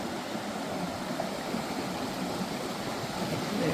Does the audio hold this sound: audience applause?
no